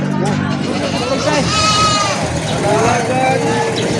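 A goat bleats loudly and close by at a goat market in Padre Garcia, Batangas, its wavering cry rising over background chatter and market noise.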